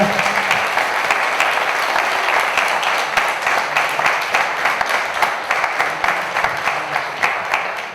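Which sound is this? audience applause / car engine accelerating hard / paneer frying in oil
audience applause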